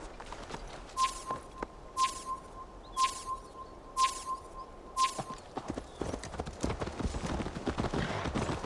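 Horse hooves clip-clop at a steady walking pace in Assassin's Creed Valhalla, regular and moderately close, alongside sharp repeated chime-like tones and faint ambient background.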